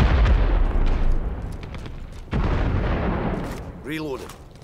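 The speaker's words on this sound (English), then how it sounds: "A lot of explosions." Heavy explosions boom through a Dirty Bomb match in Terminal Objective mode, with two big low-end blasts and rumbling aftershock. A short voiced exclamation cuts in near the end.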